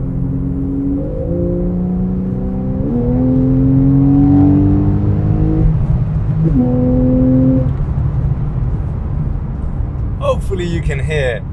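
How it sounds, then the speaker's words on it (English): Porsche 911 of the 991.1 generation on its stock exhaust, accelerating hard with the engine note climbing in pitch through several rising pulls before it settles. A voice briefly appears near the end. "hopefully you can hear what an awesome sound this engine produces"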